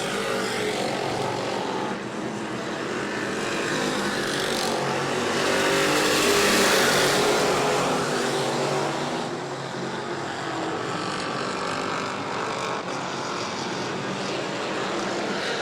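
Super stock race cars roar around the New Smyrna track at a night race, a loud continuous engine drone that swells as the pack passes close by and then eases back into a steady distant howl.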